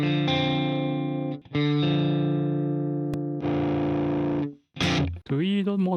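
An electric guitar plays a clean tone through an AmpliTube MESA/Boogie amp simulator, ringing out sustained notes and chords in several phrases with brief gaps between them, closing with a quick bend.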